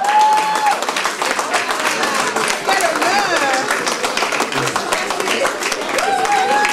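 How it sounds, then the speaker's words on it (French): A crowd at an Afro-themed evening applauds to welcome a princess presiding over a republican women's association, giving sustained clapping with a tonal sound running through it and some voices mixed in. "S'il vous plaît, on applaudit bien fort."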